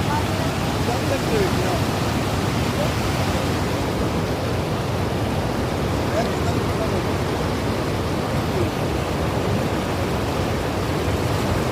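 A stream of water rushes steadily and loudly close by, a dense, unbroken roar that fills the whole recording, with a voice faintly present beneath it.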